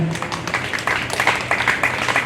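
Applause from guests at a civil wedding ceremony, a steady dense patter of many hands clapping at moderate volume that carries on throughout without pause.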